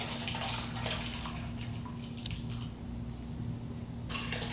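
Yellow alkaline cooking water from maize being dumped into a catch basin, a continuous loud splashing and gushing rush with dripping, close and unbroken for several seconds.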